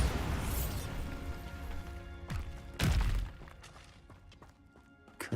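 A Bombarda blasting spell hits its target in Hogwarts Legacy on PC. Two heavy, booming impacts with crashing debris land about half a second apart over a low game soundscape, followed by scattered smaller thuds.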